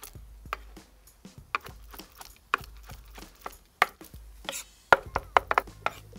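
Knife chopping green pasilla chilies on a cutting board, a close series of sharp irregular thuds that speed up into a quicker cluster near the end, with no talking.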